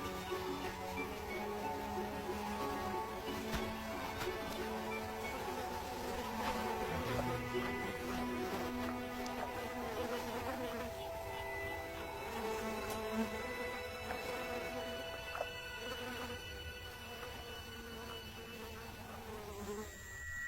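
Flies buzzing around resting lions in hot sun, a continuous layered drone of many insects nearby, some passing close and fading, with no voices.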